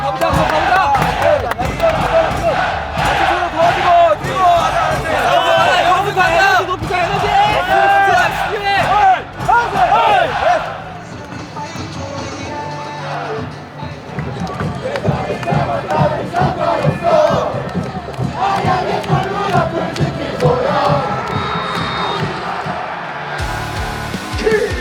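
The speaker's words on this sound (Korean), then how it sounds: "대국의 진심으로 감사의 박수를 부탁드립니다" Stadium crowd at an FC Anyang football match applauding and cheering in a dense, loud roar that persists throughout, with rhythmic claps and chants and an announcer's voice over the stands.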